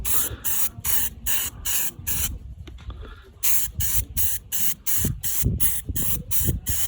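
A spray gun lays paint on a sailboat during deck work, firing in quick repeated hissing bursts, about a dozen short blasts with a brief pause near the middle, loud and close with no talking.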